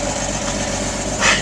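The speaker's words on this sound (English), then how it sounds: "This is a 1961 Ford F600, I believe." A 1961 Ford F600 fuel truck with a 262 straight-six engine idling in the snow, a steady low throbbing rumble with a brief brighter burst near the end.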